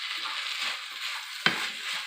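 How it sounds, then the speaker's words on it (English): Vegetable quinoa sizzles as it is sautéed and stirred in a hot pan, a steady frying hiss with soft scraping stirs and one sharp clack of a utensil partway through. "And saute this around, or toss this around, or fry this for about 5 to 10 minutes"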